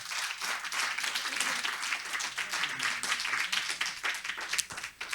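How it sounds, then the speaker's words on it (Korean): An audience applauds at an AI expert lecture in a hall: dense, steady clapping from many hands that fills the whole stretch at an even level, with no talking over it. "개 탄 게 맞으면 박수 부탁합니다."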